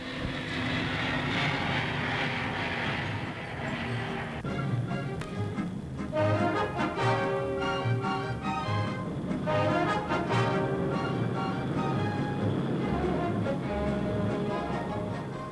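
Engines of a 1960s airliner roar steadily during takeoff on a flight bound for Rome and Benghazi, a loud continuous drone with shifting tonal whine partway through, no talk.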